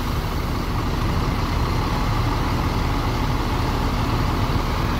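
Coach bus with a Legacy SR2 XAD Prime body, from Sudiro Tunggajaya Panjalu, pulling into a departure shelter: a dense, constant diesel engine rumble with steady broadband noise, loud and close, without speech.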